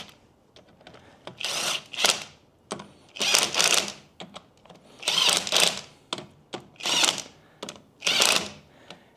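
Bolts being tightened evenly in a round-robin pattern on a 2024 vehicle during a Stage 2 upgrade, with repeated bursts of rapid ratcheting clicks separated by short pauses, close and clear.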